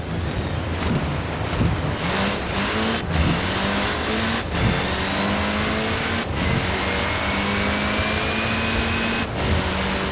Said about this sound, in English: It's a 1997 Land Rover Defender